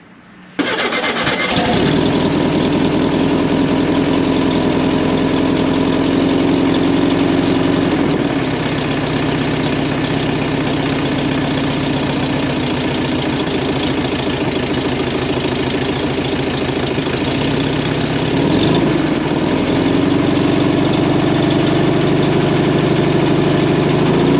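A van engine fitted with a vintage speed exhaust turns over and settles into a steady, loud idle, a continuous low rumble with faint shifts in tone that runs on without speech.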